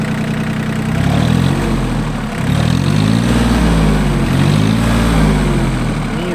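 A small Yanmar F13D tractor engine idles close by with an even, throbbing low diesel chug and gentle swells in its rhythm, with no talk over it.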